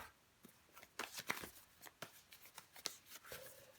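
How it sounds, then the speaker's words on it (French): Tarot cards are handled and shuffled close up, with a string of soft, irregular papery slaps and riffles in a quiet room. "Je vais recouvrir des cartes."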